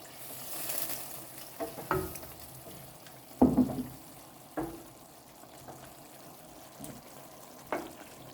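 Mushrooms and small onions cooking in a pan with a little water added, giving a soft bubbling simmer broken by several scattered clinks and scrapes from stirring, fairly quiet and close, with no voices.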